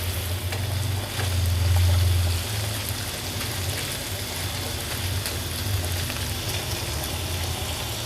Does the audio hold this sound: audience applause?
no